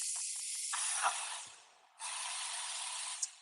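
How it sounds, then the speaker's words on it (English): Water sprays out in a steady hiss while a container is emptied, with a few short clicks early on. The spray fades out for a moment, then resumes at full strength with no talk. "We're gonna spray water everywhere."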